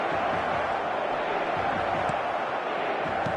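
A stadium crowd in an eFootball match roars steadily throughout, a dense continuous wash of cheering at constant loudness with faint thuds beneath it.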